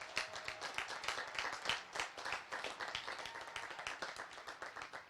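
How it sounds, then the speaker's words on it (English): Audience applause for graduates at a college commencement ceremony: dense, steady clapping from a large crowd, moderately loud and continuous throughout, with no voices over it. "So please give a round of applause to our graduates."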